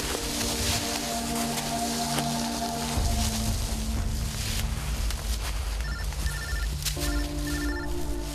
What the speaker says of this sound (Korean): 그런데 경찰에게 한 통의 전화가 걸려왔습니다.